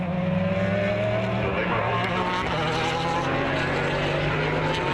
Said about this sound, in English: These are the cars that race at Le Mans